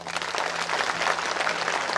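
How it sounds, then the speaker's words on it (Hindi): A crowd at an outdoor religious gathering in a village claps in a dense, continuous wash, loud and close for a couple of seconds. "ताली बजाओ ना।"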